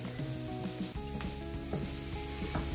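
Food cooking in olive oil in a pan, a dense continuous sizzle with rhythmic scraping and stirring strokes throughout, close and fairly quiet, with no voices.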